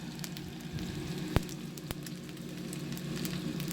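A frozen hamburger patty sizzles and fries steadily in a pan, a dense continuous crackle with a few sharp pops and spatters, close and alone.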